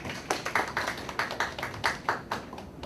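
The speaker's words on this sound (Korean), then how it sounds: "박수 부탁드립니다" A small audience at an educational information session claps to welcome a presenter, a light, fairly even patter of a few hands heard close and moderately quiet.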